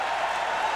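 A college wrestling crowd at a 2000 dual meet cheering and clapping after a takedown, a steady broad roar of applause filling the arena without a break.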